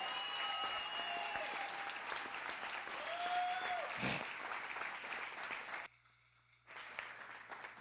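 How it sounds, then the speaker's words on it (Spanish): A church congregation applauds during a sermon, a full rolling wash of clapping with whistling tones and a brief cheer over it, a sudden sharp clap near the middle and a short dip before the clapping resumes. "si lo cree, aplauda al Señor"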